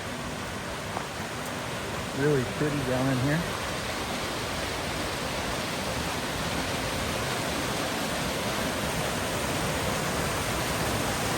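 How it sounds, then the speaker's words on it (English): Small waterfall on a mountain creek along a trail near Sundance Pass, a close, steady broadband rush of falling water that continues unbroken, with someone speaking briefly over it early on. "Coming down to this creek, we got a little waterfall here."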